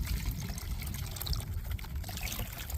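Water pours and trickles steadily during gold panning beside a gravity-feed sluice run, a close, continuous splashing stream with no talking.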